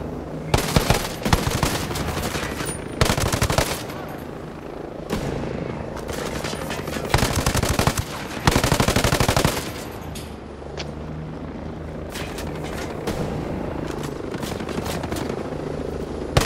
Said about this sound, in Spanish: Helicóptero.